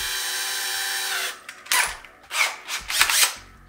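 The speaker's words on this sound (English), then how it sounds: "So I'm gonna take a hole saw out." A hole saw on a power drill cuts through a boat deck to fit LED deck lights, starting with a long steady whine, then several short loud cutting bursts, close by.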